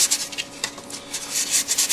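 Sandpaper or a sanding tool rubbed against a plastic model kit part, a series of quick scratchy strokes in an uneven rhythm, close and fairly quiet, with no talking.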